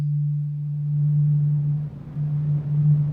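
A steady synthesized tone from Ableton's Wavetable synth hums with a faint hiss of added noise layered over it, briefly dipping before resuming.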